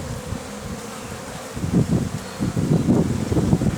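A low, steady buzzing of many honeybees close by at a forest apiary hive, swelling in the second half with wind rustling underneath.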